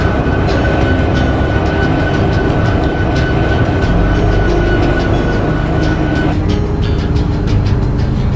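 A locomotive hauls a train out of a rail yard in a Roblox train game, with a steady, loud rumble of engine and wheels, faint rhythmic clicks over the track, and a sustained tonal hum that shifts partway through.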